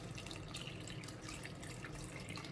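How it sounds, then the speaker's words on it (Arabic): Water poured into a simmering lasagne bolognese meat sauce in a cooking pot, a steady, low, continuous pouring and splashing sound with faint dripping, close and alone without speech. "وتوا باش نصبو الماء"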